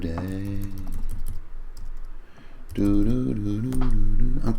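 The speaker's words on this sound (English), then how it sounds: "I'm clicking things all wrong here." Rapid computer keyboard typing and mouse clicks rattle close by, a steady stream of sharp taps under a voice that talks most of the time.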